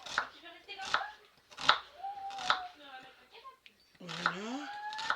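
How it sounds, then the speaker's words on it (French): Onions being sliced with a knife on a board in a home kitchen, a series of sharp, close chops in an irregular rhythm, with quiet voices and other sounds between cuts. "donc on émince aujourd'hui les oignons"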